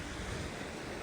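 Ocean waves wash against the rocks below a cliff, a brief, faint, steady surf rush mixed with wind buffeting the microphone and no voices.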